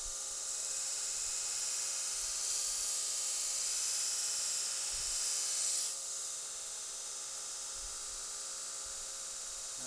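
A handmade knife blade ground freehand to put a bevel on it, producing a steady bright hissing grind that swells and then drops off partway through, with a few soft knocks underneath.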